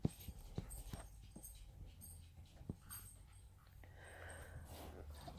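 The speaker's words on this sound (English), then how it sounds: "just scared my dog." A startled dog gives a few short snorts, whimpers and panting breaths close by in a quiet indoor room, brief irregular bursts over a low steady background hum.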